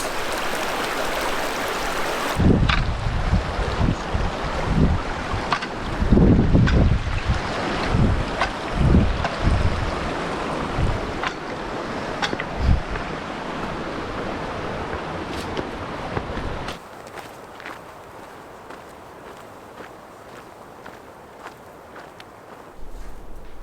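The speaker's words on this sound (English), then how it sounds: "And this is Rock Creek I'm just crossing right now." Rushing water of Rock Creek, a backcountry stream in Colorado's Weminuche Wilderness, heard close while a hiker crosses it; a steady broadband roar with splashing bursts that drops to a quieter flow near the end, with no talking.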